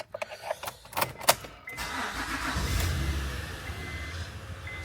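An Acura car engine cranked and started, a few clicks and starter bursts giving way to a steady idle rumble, heard up close.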